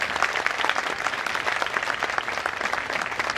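Sustained, dense applause from a crowd at a 2016 murti pratistha ceremony in Haripura, a steady close wash of many hands clapping without pause.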